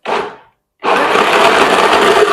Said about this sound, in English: And now I'm going to blend.